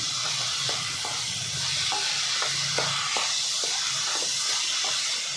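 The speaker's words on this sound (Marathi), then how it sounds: "हे चांगलं परतून घ्यायचं आहे" A paan leaf and coconut barfi mixture is stir-fried in a pan, giving a steady, close sizzling hiss broken by regular scraping strokes of a spatula throughout.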